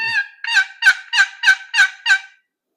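A Primo's Box Cutter wooden box turkey call sounds a series of seven raspy, evenly spaced yelps, loud and close, then stops into silence.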